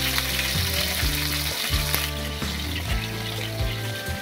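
Bitter gourd frying in hot oil for a milk shukto, a steady loud sizzle with scraping stirs and clinks of a utensil against the pan throughout.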